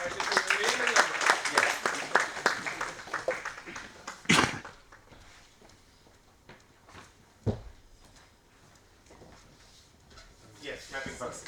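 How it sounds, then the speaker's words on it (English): An audience applauds an award recipient at a junior faculty development program, with dense clapping mixed with talk over the opening seconds, followed by a couple of sharp, isolated knocks and quieter room sounds. "Clapping for him."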